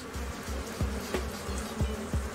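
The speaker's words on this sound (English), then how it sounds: "the angry bees continue to attack Reed and Jim" A swarm of angry, attacking bees buzzes loudly and continuously up close, the dense droning hum steady with no voices.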